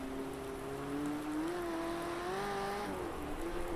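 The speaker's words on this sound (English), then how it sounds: "That's the car wheel spinning on all the puddles on the track." A race car in a wet racing game revs as its wheels spin through puddles on a soaked track, with a steady engine tone that wavers upward under a constant hiss of spray.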